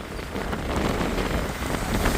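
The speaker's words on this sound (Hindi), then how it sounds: "देखो दोस्तों फिर से बारिश बढ़ गई" Heavy rain pours steadily and loudly during a wet road journey to a college, a dense continuous hiss of drops on surfaces with no pauses and no voices.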